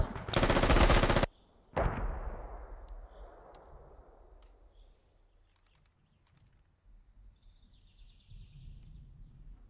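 A loud, rapid burst of automatic gunfire, then a single close shot in the military shooter Squad, followed by a fading echo, faint distant pops and quiet chirps, with no talk.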